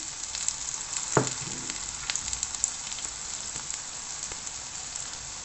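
Dough pieces fry and puff up in hot oil, a steady close crackling sizzle with scattered pops and a brief stirring scrape, no voices.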